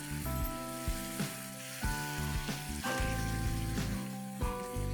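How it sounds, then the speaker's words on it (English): Chicken thighs fry in a pan with a steady, close sizzle, broken by a few soft stirring bumps. "So now you need to fry this until it's almost cooked"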